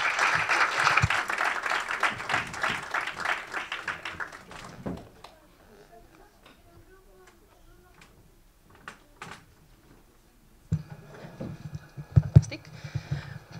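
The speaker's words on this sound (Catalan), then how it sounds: "els hi fem un gran aplaudiment, no?, abans de la taula" An audience at a round table marking 40 years of Cotxeres in Sants claps loudly for about four seconds before the applause fades into a quiet room with scattered knocks and shuffling; louder bumps and noise return near the end.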